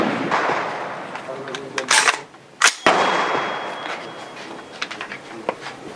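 Rifle shots from an AR-15 or AK-47 at an outdoor shooting range, a few sharp loud cracks spaced apart over a noisy background with faint voices.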